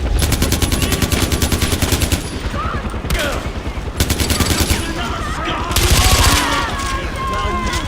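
Rapid automatic gunfire in the video game Far Cry 4, dense bursts of shots with pauses and a heavy blast near the end, loud and continuous with a voice talking over it.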